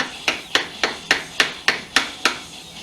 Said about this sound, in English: we're going to make this look as clean as possible using a little 11-ounce hammer, nothing too crazy